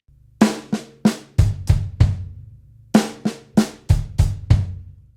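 Sharp drum kit hits in a syncopated groove with an offbeat hi-hat, two short phrases of snappy strikes and cymbal-like taps, played close and clear with brief pauses.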